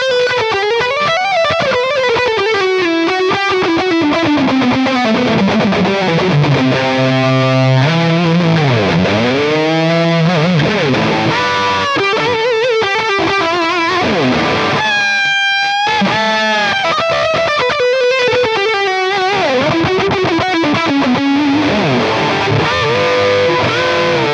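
Distorted lead lines on a Fender Mustang 90 electric guitar, loud and continuous, with fast melodic runs, bends and sustained notes throughout, no talking.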